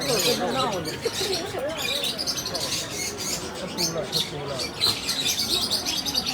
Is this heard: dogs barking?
no